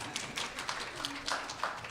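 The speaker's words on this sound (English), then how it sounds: "Give Katie a round of applause." An audience at a conference session claps for a presenter named Katie, a short burst of scattered, moderately loud hand claps over about two seconds.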